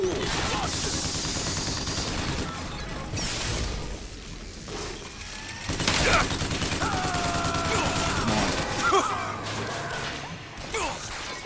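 Gunfire in the video game Bioshock Infinite crackles in dense, continuous volleys with crashes and mechanical clatter, loud throughout, with game voices heard over the shooting.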